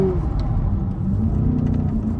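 Low, steady rumbling engine drone from a Corvette C8 supercar held partly on throttle while sliding sideways, close and fairly loud, with no talk over it.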